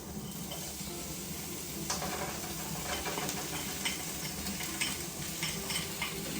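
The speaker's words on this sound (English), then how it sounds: "now we're gonna add our peas and carrots." Peas and carrots being stirred into shepherd's pie filling frying in a pan, a soft, steady sizzle broken by scraping utensil strokes against the pan, with no talking.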